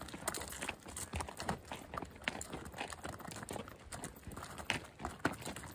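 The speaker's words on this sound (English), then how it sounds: "Picking his way through the rocks, he's super sure-footed." A mule's hooves pick over rocky ground on a trail ride through red rock country in southern Utah, a close, uneven run of clopping and scraping steps with the crunch of loose stone.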